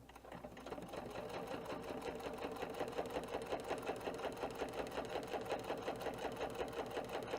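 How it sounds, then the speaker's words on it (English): A sewing machine stitches steadily at close range, its rapid needle rhythm pulsing evenly throughout while back-stitching fabric, with no voices over it. "I'm doing a back stitch because I don't want it to unravel"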